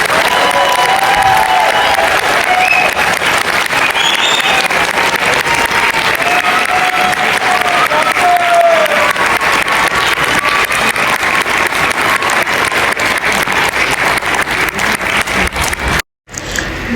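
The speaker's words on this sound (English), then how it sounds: "Let's please give a round of applause to our second group." Loud, sustained applause from a large crowd of students, with cheering and some shouts mixed in, continuing steadily throughout, at a school event.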